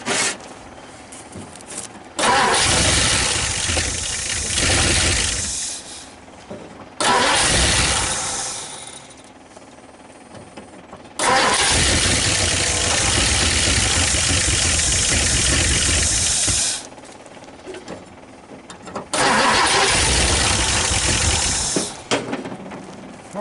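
A 1959 Ford Fairlane 500 Galaxy restarted after more than 20 years, its engine cranking and catching into loud, rough fast idle in long roaring bursts that cut out between attempts, close up with no talking.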